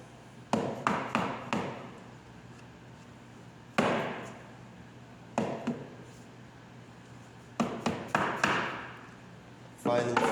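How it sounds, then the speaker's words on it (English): A hammer tapping the corners of an upper kitchen cabinet flush during assembly: sharp, close knocks on wood, single and in quick clusters, separated by quiet pauses. "So you take your hammer, it doesn't take a lot."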